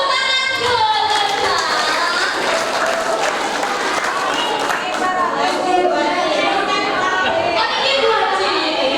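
Sustained applause from a live audience at a religious lecture show taping in Pemalang, dense and loud throughout, with crowd chatter and voices mixed in under the clapping.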